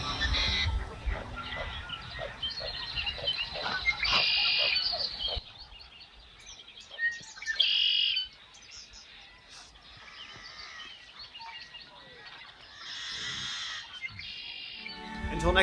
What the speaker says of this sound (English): just recorded the quiet lake, and there was some birds, some ducks and birds